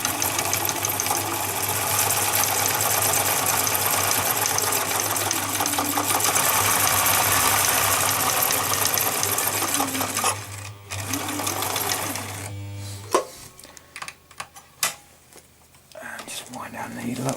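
A Husqvarna 19e sewing machine runs a straight stitch, its motor whirring loud and steady for about ten seconds before stopping, followed by clicks and handling noises and a quiet voice.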